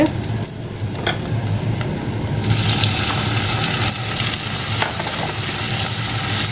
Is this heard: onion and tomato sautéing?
yes